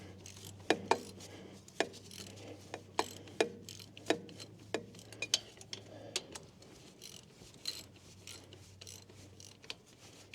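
Ratchet wrench tightening the fuel pump bolts on a John Deere backhoe, a series of sharp clicking strokes in uneven bursts, close and clear over a low steady engine-like hum that fades partway through.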